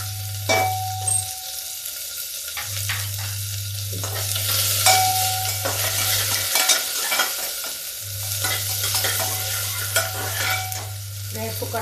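Garlic, onion and green chili sizzle steadily in a hot pan, stirred now and then with a utensil scraping the metal, the frying constant and close with no one talking.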